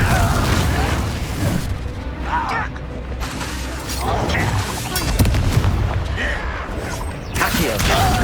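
Spell blasts from the Confringo curse and other combat spells in the Hogwarts Legacy video game, several loud booming bursts and crackles over busy game noise and music, with spoken spell incantations between them.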